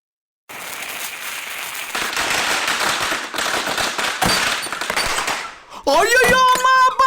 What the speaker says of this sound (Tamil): பொங்கலுக்கு பட்டாசு வெடிக்கிறது, அதுவும் நடு வீட்டுல